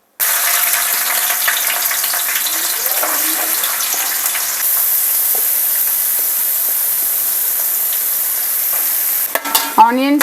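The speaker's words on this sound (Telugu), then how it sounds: "ఆనియన్స్ గోల్డెన్ కలర్ వచ్చేంత వరకు ఫ్రై చేసుకోవాలండి" Onions fry and stir in a hot pan with whole garam masala for egg pulao, a loud steady sizzle with scraping stirs throughout and a few clinks of a utensil near the end.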